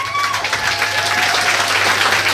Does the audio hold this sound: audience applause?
yes